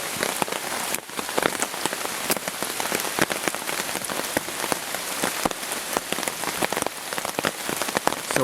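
Hard rain drums steadily on a taut tarp shelter at a wet campsite, a dense close patter of drops with sharper individual hits throughout, no voices.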